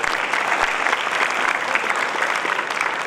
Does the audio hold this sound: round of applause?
yes